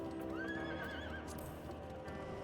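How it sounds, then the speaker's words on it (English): In a Final Fantasy video game, a horse gives a clear, rising whinny followed by a shorter neigh, with faint hoof clip-clops and a steady game background underneath. "And you have a new horse."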